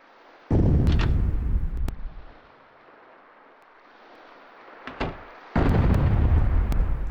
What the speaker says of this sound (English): It's like something's knocking on the wall, but that is a very loud banging sound.